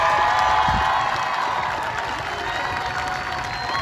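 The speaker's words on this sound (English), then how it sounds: "And they're applauding the police officer" A large crowd at a peaceful street protest applauds and cheers a police officer kneeling with them, a dense continuous roar of clapping and voices heard from within the gathering, steady throughout.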